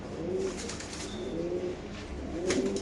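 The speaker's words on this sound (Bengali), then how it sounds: "আপনারা দেখতে পাচ্ছেন মাশাআল্লাহ বড় সাইজের কবুতর" Blue bar Mundian pigeons cooing in a loft, low rolling coos repeating three times at an even pace over a soft background hiss, close by with no talking.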